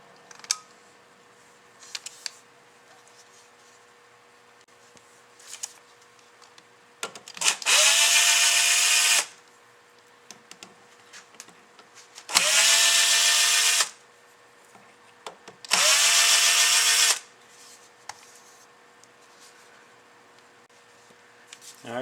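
A power tool driving screws out of the cover of a Carter carburetor from a 1941–51 Buick. Three loud, close bursts of whirring motor, each lasting a second or two, separated by quiet gaps with small clicks.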